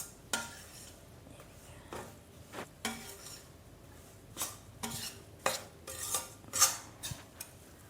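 Gram flour (besan) being stirred and roasted in a pan over a slow flame, with repeated scraping and clinking strokes of a spoon against the metal at an irregular rhythm, close and clear.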